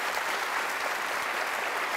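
A hall full of people applauds steadily at a university veterinary school's carol service, a dense, even wash of many hands clapping for the full two seconds with no voices over it.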